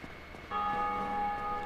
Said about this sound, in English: Ooh, we're getting closer to the bell.